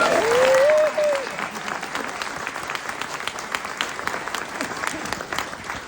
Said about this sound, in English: Can we get a little round of applause?